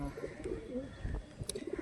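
Domestic pigeons cooing softly in a short, low burst of throaty coos, fairly close and faint, with a brief higher chirp near the end.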